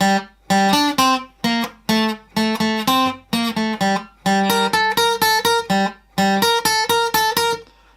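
An electric guitar plays a choppy, repeating main riff in short plucked notes, bursts with brief gaps, clear and close, with no voices.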